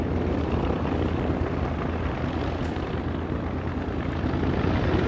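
A B-25 Mitchell bomber, a World War II twin-engine aircraft, rolls along a runway, its piston engines making a loud, continuous, rumbling drone that holds steady without pause.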